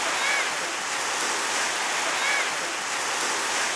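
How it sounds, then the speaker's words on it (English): Small waves wash in at Treasure Island Beach, Florida, giving a steady, broad surf hiss with no clear breaks, close and constant throughout. "I'm surprised there's a little bit of waves over here"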